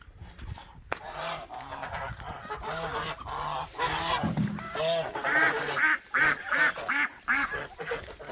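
A flock of geese honks loudly and repeatedly, overlapping calls close by in a noisy, constant chorus.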